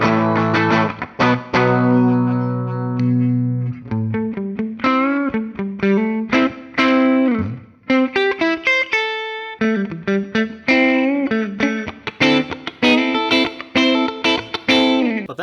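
An electric guitar in humbucking pickup mode plays through distortion and effects, starting with a sustained chord, then moving into choppy, staccato riffs and single notes with short pauses between phrases.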